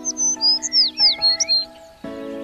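A sparrow chirps in an animated children's lesson about birds, a quick run of bright, high tweets in a lively cluster, heard over a sustained musical backing that swells near the end.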